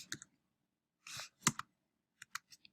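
Delete key on a computer keyboard pressed while editing a document: a few crisp, close plastic clicks, one short clattering burst of keystrokes, then a couple of faint, sparse taps, with no talking.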